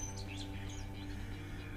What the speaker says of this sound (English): The birds are watching.